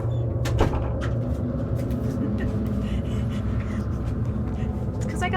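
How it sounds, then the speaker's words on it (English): A bedroom door is forced open by a child, giving one sharp, loud bang near the start. A steady low hum continues underneath, and a voice speaks nearby. "And he busts open my door."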